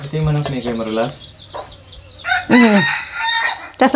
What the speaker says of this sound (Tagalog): Ito yung manok ni Kuya Marulas.